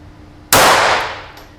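A single sharp crack from a .22LR rifle firing Eley Tenex match ammunition rings out at close range, with a brief decaying tail and no talking.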